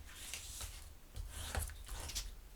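Paper card stock, a 6 by 8.5 inch piece, being folded and mitered along a score line, heard as a series of close, quiet rubbing and scraping strokes with brief crisp rasps.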